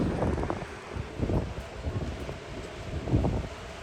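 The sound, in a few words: strong gusty wind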